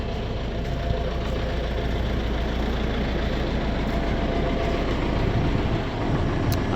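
A BvL 17 m3 feed mixer wagon runs quietly with a steady, continuous low mechanical drone and hum throughout, close by and without talk.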